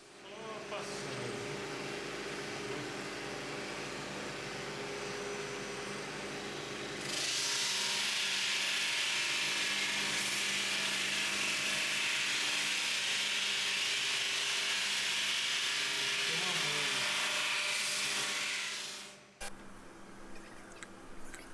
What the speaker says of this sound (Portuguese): Então estamos aí lixando